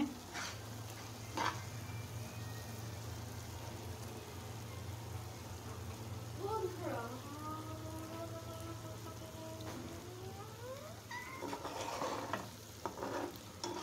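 Shrimp bhuna cooking in a pan over medium-low heat, a soft steady sizzle with scraping stirs and a few sharp utensil knocks, heard without any talking.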